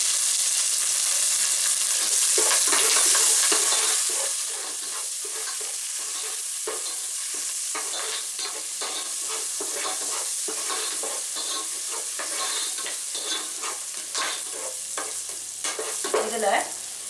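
Curry leaves, green chili and asafoetida fry in hot oil for rice upma kozhukattai, giving a loud, steady sizzle broken by scraping stirs with a spoon, close up and with no talking.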